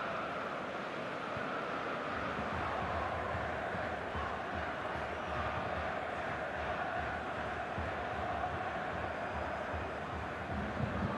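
A large stadium crowd from PES 2019 roars in a steady, dense wash of noise that stays at an even level throughout, with no single voice standing out.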